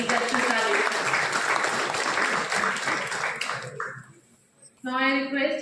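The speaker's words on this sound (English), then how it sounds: "A big round of applause for once again for the chief guest of the ceremony, Justice Rajesh Tandon." An audience at a law college national conference ceremony applauds the chief guest, a justice, with loud sustained clapping that fades out before an announcer's voice returns.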